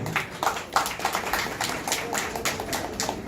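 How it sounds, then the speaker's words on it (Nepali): An audience at a Nepali literary award ceremony claps steadily and fairly close, with individual hand claps standing out in an uneven, continuous rhythm. "उहाँलाई हामी जोरदार ताली बजाएर फेरि पनि सम्मान व्यक्त गरौँ"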